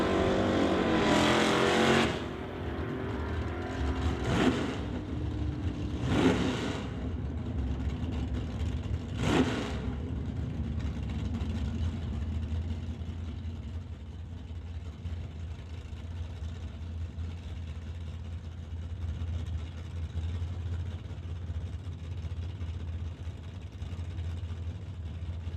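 Drag race cars, including the Murphy's Law Firebird, launch with a loud roaring burst, followed by a few sharp engine surges and then a long, steady mechanical drone with no talk.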